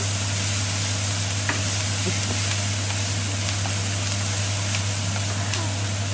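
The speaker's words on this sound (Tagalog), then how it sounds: "Stir the onion until a little bit brown." Onion for paella sizzles steadily in a pan while being stirred, giving a loud, constant frying hiss with faint scrapes from the stirring and a low hum underneath.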